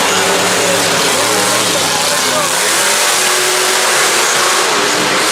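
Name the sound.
El Toro Loco monster truck engine revving at Monster Jam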